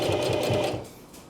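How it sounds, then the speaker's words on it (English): A hand-cranked sewing machine stitching a square of fabric into a coin purse, a steady rapid mechanical clatter that runs for most of the moment and then eases off toward the end. "We'll throw a couple of hand cranks on there, and we'll sew that square into it."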